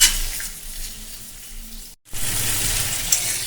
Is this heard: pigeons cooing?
no